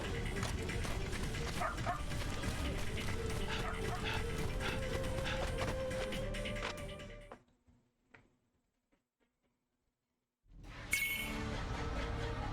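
Dog in a video game barking, yipping and whimpering in a busy burst under game sounds, then cutting to near silence before noise returns.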